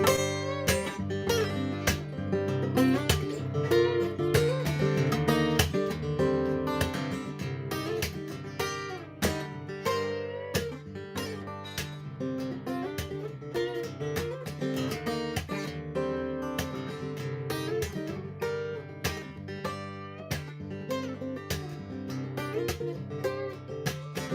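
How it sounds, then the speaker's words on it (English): An acoustic guitar plays a fingerstyle solo alone, a busy run of plucked notes and strums that keeps going steadily, close and fairly loud, with no voices. "effectively, it's a guitar solo."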